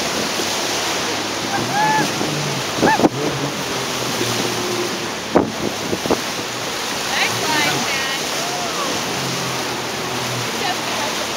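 Whitewater rapids on the Colorado River in the Grand Canyon rush and churn continuously around a raft, with sharp splashes hitting at intervals as waves break over the boat, and voices faintly heard beneath the roar.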